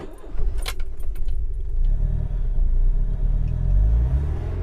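Keys jangle at the ignition of an FSO Polonez with a two-litre DOHC engine, then the engine catches and settles into a low, steady idle rumble close by.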